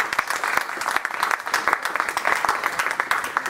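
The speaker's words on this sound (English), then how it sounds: "Please, a round of applause for them." A modest audience at an interfaith gathering claps, the individual hand claps distinct and uneven in a short round of applause that stays fairly close and moderate in volume.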